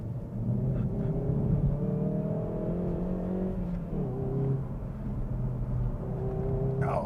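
A 2021 Hyundai i30N Performance accelerates on the road, its engine note climbing through gears in steady rising harmonics, heard from inside the cabin as a moderate continuous drone.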